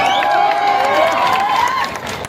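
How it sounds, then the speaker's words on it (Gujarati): Crowd at a public gathering in Morbi cheers and claps loudly for Kantibhai, a steady dense roar of clapping and voices that fades slightly near the end. "કાંતિભાઈ માટે જોરદાર તાળી થઈ જાય"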